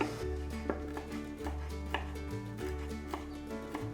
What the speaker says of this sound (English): I got some fresh dill and I'm gonna get rid of the big stems, the thicker stems, and chop it.